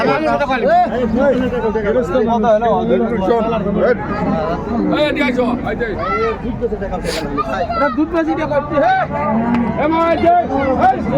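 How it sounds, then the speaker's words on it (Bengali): Dairy cows and calves mooing at a busy cattle market in Raniganj, Dinajpur, Bangladesh, several low calls rising over constant crowd chatter and voices nearby. "গাভী বাছুর"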